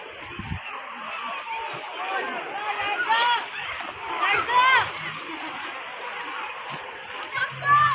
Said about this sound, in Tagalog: bago muna maligo sa pool, syempre, mag-shower muna.